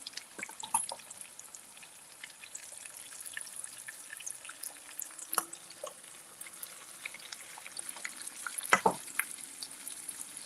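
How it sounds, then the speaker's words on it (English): Quiet, steady crackle of food frying in oil, with scattered pops and a few louder clinks and scrapes of utensils. "Now it's sizzling."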